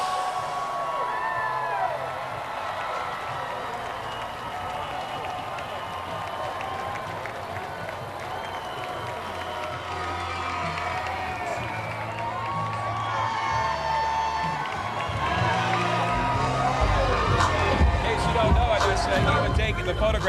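A large crowd roars and cheers along the route of the 2007 San Antonio Spurs NBA championship parade as a float carrying Tony Parker, Eva Longoria and the Finals MVP trophy passes. A continuous wash of whoops and applause swells louder toward the end, with commentators talking over it.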